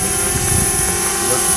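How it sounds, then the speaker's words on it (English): A small camera drone flies overhead at an RV camp, its steady buzzing whine of rotors droning continuously and fairly loud, with a hint of voices around it. "I'm trying to follow this drone thing."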